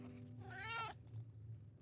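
A tabby cat in the video game The Wolf of Derevnya gives a single clear meow when petted, rising and falling over about half a second above a steady low background hum.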